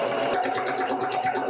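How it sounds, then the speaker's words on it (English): A sewing machine runs a zigzag stitch on the arm of a stretchy turtleneck, a steady fast mechanical whir with a rapid even pulse, close and continuous throughout. "All right, zigzag stitch."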